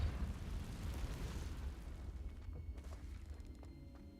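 Spell blasts in the Hogwarts Legacy video game, fire and force spells cast in quick succession: a loud, rumbling explosive burst that sustains and slowly decays over several seconds with no talk.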